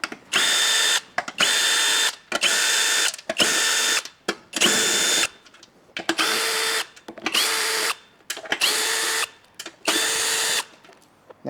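A power tool backs screws out of a Lexus ES300h hybrid battery casing in about a dozen rapid whirring bursts, each lasting close to a second, with short quiet gaps between them.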